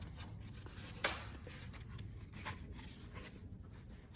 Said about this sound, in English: You want to make sure your gasket stays in place. So we're just going to press that back in.